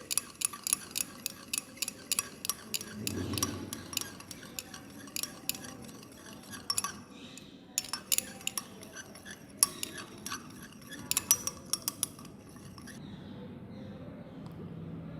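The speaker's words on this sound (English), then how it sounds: "and mix it." Iodine throat paint solution with glycerin being stirred and mixed, giving a run of sharp, rapid clinks and scrapes of a utensil against a container, in bursts with short pauses, close and fairly clear.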